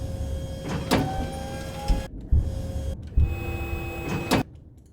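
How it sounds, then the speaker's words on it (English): A layered whining effect of a small prop plane is shaped with an upward pitch sweep, giving rising mechanical whines with sharp clunks, broken by brief silences between bursts. "maybe we can use this little prop plane whine to sort of, we can add some pitch up effect to it"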